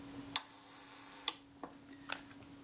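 A Kodak Retina camera shutter set to its 1-second speed fires with a sharp opening click, then a second crisp click about a second later, followed by small mechanical ticks and clicks from handling, close and alone.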